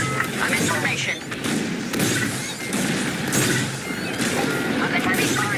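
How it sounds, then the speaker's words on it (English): Dense, continuous blaster fire and thudding impacts from a Star Wars Squadrons space battle, a steady loud barrage with booms throughout and voices talking over it. "Under heavy fire."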